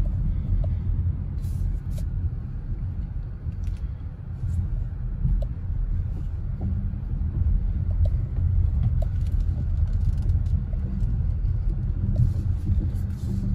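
A 2022 Hyundai Tucson Limited AWD drives slowly around to park, its low engine and road rumble steady and close throughout, with faint outdoor bird sounds behind it.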